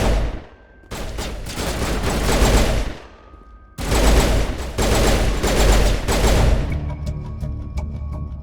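Mass Effect squads trade sustained automatic gunfire in a shootout, two long loud volleys of rapid shots with a brief lull between, fading into scattered pops at the end.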